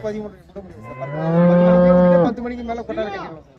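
Cattle at the Karungalpalayam cattle market: one cow lets out a long, loud, close moo that rises and then breaks off, followed by a few shorter, quieter lowing sounds.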